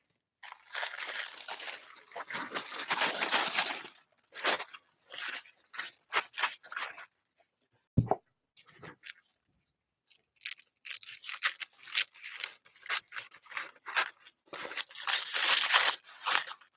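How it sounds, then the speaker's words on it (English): Scissors snip and slide through gelli print paper for collage artist trading cards, producing close, crisp cutting bursts in irregular clusters separated by brief quiet pauses. "Trying to get slick and run my scissors down through there."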